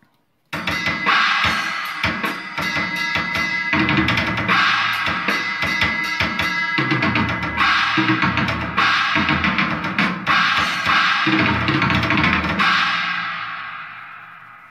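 An electronic MIDI drum kit plays a dense, loud, continuous run of hits with heavy processed reverb and crashing cymbals, ending in a fading cymbal tail.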